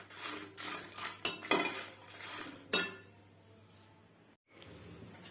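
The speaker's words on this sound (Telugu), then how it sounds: "ఎండుమిర్చి వేయించుతున్నాను" Dried red chillies are dry roasted without oil in a metal pan over medium-low heat, giving quiet, intermittent scraping and clinking of the stirring utensil against the pan.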